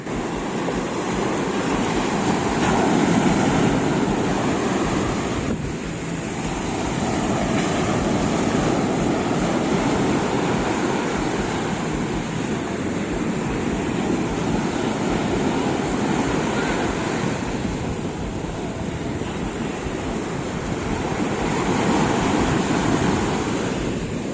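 Sea waves roll and wash steadily onto a beach where children are playing in the water, a continuous loud surf with gentle swells in intensity and no talking.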